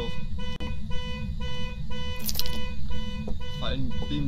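A car alarm in the video game Phasmophobia sounds a steady, droning horn tone that runs on throughout, with voices talking briefly over it.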